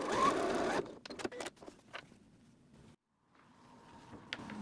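A sewing machine whirs briefly up close as bag webbing is stitched in place on a library tote, followed by quiet handling sounds and a short pause.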